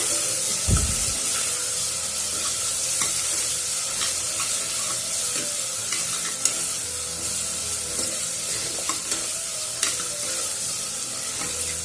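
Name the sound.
sautéing vegetables in oil for millet sambar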